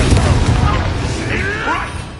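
A Confringo spell explosion in Hogwarts Legacy bursts loudly at the start, a booming blast that rolls off into a fading rumble with crackling debris over the next two seconds.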